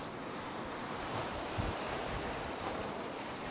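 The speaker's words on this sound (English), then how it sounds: "Mags are on, wind's picked up." Wind and surf at Sand Point on the Bristol Channel shore make a constant, roaring wash, with gusts buffeting the microphone and no voices.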